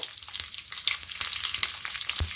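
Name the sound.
green chilies and urad dal frying in oil for daddojanam tempering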